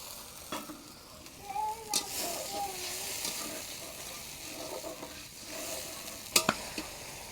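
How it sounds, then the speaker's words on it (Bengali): Tomatoes simmering down in a pan after a splash of water for Bengali bhola fish bhuna, a steady soft sizzle with occasional spoon scrapes and a couple of sharp clinks near the end, no talk. "এই জলটুকুন দিয়ে আমি আবার টমেটোটাকে কষাবো"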